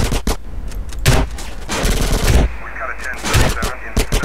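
Rapid gunfire bursts in GTA San Andreas, loud and close, with several sharp volleys and a sustained stretch of firing over game ambience and effects.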